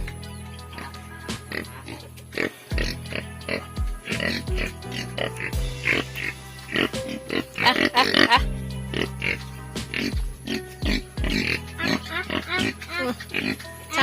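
Pigs on a low-cost bamboo-built farm in Assam grunt and oink repeatedly at close range, with a steady low hum running underneath and brief rises of louder calling in between.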